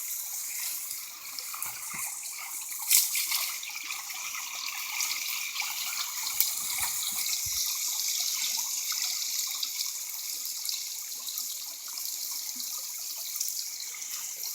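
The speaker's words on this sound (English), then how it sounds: "That's the water coming out." Water gushes steadily out of a pipe lifted slightly at a creek bank, a continuous hissing trickle and splash heard close and alone throughout.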